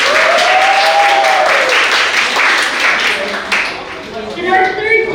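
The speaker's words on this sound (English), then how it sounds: "Let's give a round of applause for Mr." An audience at a school English and music festival applauds loudly for a judge being introduced, the clapping dense at first and tapering off, with voices mixed in.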